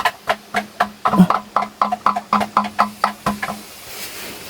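A steady series of about fifteen sharp knocks inside a cave, evenly spaced and echoing slightly, then fading into quiet hiss.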